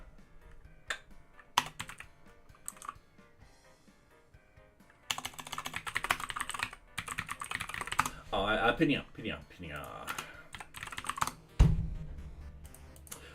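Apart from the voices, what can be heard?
typing on computer keyboard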